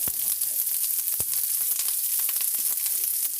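Extra onions for homemade cheeseburgers sauté in a pan with a steady, close, crackling sizzle, punctuated by a few sharp spits and pops throughout.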